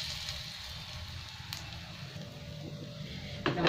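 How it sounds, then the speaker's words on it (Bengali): Small bottle gourd koftas frying in a little oil in a frying pan, a faint, continuous crackling sizzle heard alone, ending with a brief louder clatter. "সবগুলো আমি এইভাবে ভেজে নেব।"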